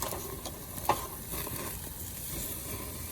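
Steak flipped on a grill sizzles softly and steadily, a quiet crackle with one brief clunk near the start.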